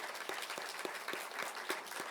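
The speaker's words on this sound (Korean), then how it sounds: "우리 축복의 길을 걸어가라고 우리 힘차게 박수로 격려해 주겠습니다." Congregation applause in a church during a Sunday worship service, a steady wash of many hands clapping with soft rhythmic accents, moderately distant and filling the room without talk.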